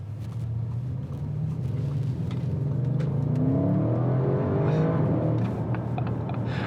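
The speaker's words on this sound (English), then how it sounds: "you do get that lovely V8 warble" A 2021 Audi RS6 V8 engine accelerating, heard from inside the cabin: a steady low rumble and warble that grows louder and rises in pitch midway, staying sustained with no talk.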